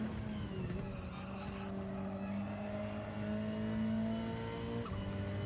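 Car engine in the racing game Gran Turismo 7, a steady droning hum with rising harmonic tones as it accelerates, holding at a constant level for several seconds with no talk.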